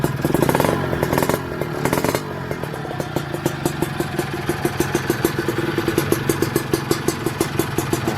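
A Kawasaki KR SSE motorcycle with a titanium exhaust idles close by with a steady, lumpy putter and soft exhaust pulses, no voices.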